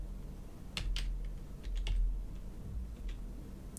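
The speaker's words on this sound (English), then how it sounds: "So what we're going to type is target" Someone types code on a computer keyboard. Soft, close keystrokes come in a loose, irregular sequence over a quiet background.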